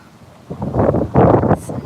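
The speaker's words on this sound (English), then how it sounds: "Super windy out." Strong gusts of wind buffet the microphone beside a cove on a kayak fishing outing, building in two loud surges over a low rumbling background, with no talk.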